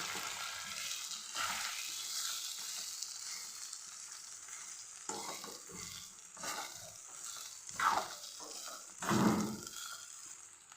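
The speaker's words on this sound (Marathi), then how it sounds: "हे पोहे आपण यामध्ये टाकून छान मिक्स करूँ" Poha sizzles steadily in a pan while it is stirred and mixed, with the spatula scraping and tossing now and then. The frying is close and continuous, and nobody speaks.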